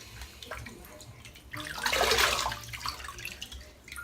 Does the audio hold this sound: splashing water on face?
yes